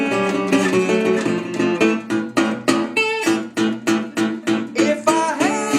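Acoustic guitar in a Delta blues style, three open strings picked in turn and then moving into a fourth-position chord, played as a sequence of ringing plucked notes and strums, close and clear with no talk.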